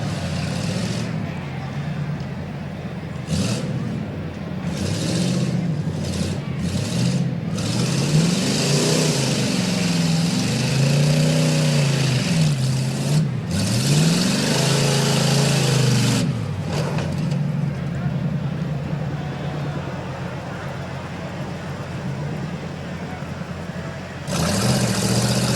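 Rough-course truck at a county fair revving hard, its rough engine rising and falling through repeated throttle bursts across a long stretch, loud and up close, with faint announcer talk in the background.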